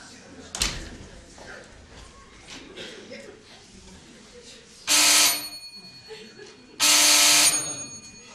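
Two long electric doorbell rings, each about a second, sound loud and close during a German stage comedy performance, following a sharp slam and some background talk.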